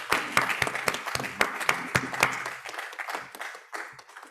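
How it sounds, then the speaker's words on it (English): An audience at a closing plenary applauds the global shapers, a moderately loud run of sharp, separate claps that thins out and fades toward the end. "And a round of applause for the global shapers."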